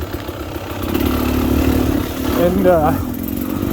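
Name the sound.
Beta Xtrainer dirt bike engine with fatty pipe accelerating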